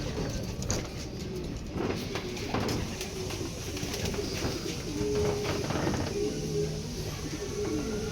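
Young racing pigeons arriving at a loft during a derby training flight coo repeatedly at close range over a steady background rustle, with no talk.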